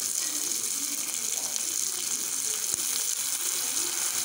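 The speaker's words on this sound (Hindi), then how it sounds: "अब ये हल्का सा सुनहरी होने को है, एक सेकंड और इसे मैं भूनूँगी।" Noodle ingredients fry in a pan with a steady, bright hiss and crackle, close and continuous, with no talking over it.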